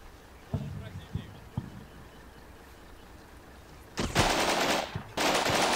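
Machine gun fire in a military training campaign video game, heard as a few sharp separate shots early on, then loud sustained bursts of rapid automatic fire near the end.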